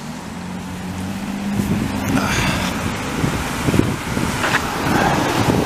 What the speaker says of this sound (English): there's a cold wind now though